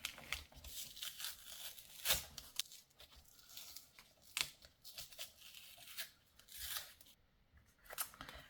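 Paper layer peeled and scraped off the back of a playing card with a fingernail tool, close up, with irregular scratchy tearing bursts and a few sharper rips; no talking.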